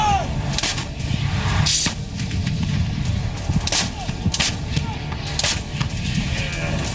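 An M777 howitzer artillery cannon fires in several sharp, heavy booms spaced a second or so apart, each with a quick crack and a rumbling tail.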